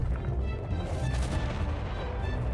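A Wicked Manticore's burst ability firing in ARK PvP combat, a rapid run of booming, crackling impacts rolling continuously through the whole stretch, no voices over it.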